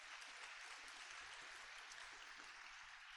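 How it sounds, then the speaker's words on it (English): An audience claps for helpers at the Summer Sing '23 community summer camp event, a steady, fairly faint wash of applause heard at a distance with no voices over it. "Let's give those guys a round of applause."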